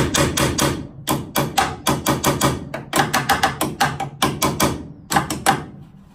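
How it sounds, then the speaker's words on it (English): A hammer taps a metal pin into a classic Mini's front suspension in rapid bursts of sharp, ringing strikes, many blows in quick groups with short pauses, loud and close. "Let's just tap it in with my hammer."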